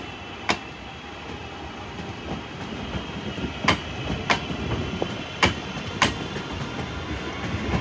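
A British Rail Class 323 electric multiple unit rumbles past at a station with a steady low roar and periodic sharp clacks of wheels over rail joints, moderately loud and continuous.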